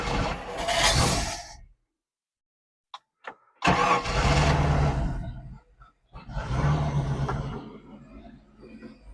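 A boat engine fitted with a newly installed carburetor starts on the key: a loud roar, then a pause with a few cranking clicks, another roaring start, a brief drop, and a steady run-up close by.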